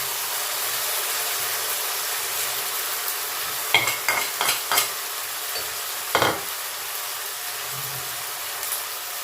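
Onion paste and tomato puree sizzle steadily in a hot pan for Rui macher kalia, a constant bright frying hiss broken by a few clinks and scrapes of stirring.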